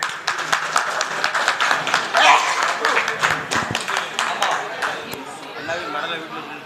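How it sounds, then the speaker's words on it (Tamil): An audience claps for the guru at a Tamil villisai (bow song) debut performance. The applause is steady, close and busy, with many overlapping claps and voices chattering underneath. "அவங்களுக்கு ஒரு கைத்தட்டுங்க."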